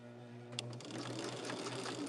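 Domestic sewing machine stitching quilt sashing strips, a close, quick steady whirring run of stitches starting after a brief hum, no talk.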